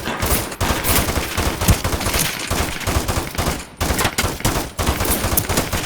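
Rapid machine gun bursts and scattered gunshots in a video game firefight, loud and dense for the whole stretch, with brief gaps between volleys.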